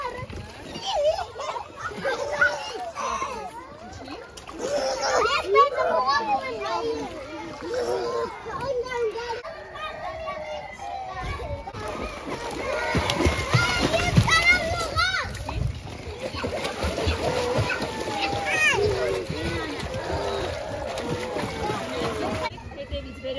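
Children's voices chatter and shout while they splash water with their feet in repeated lively bursts during a swimming lesson, near and loud, with an adult voice talking over the play.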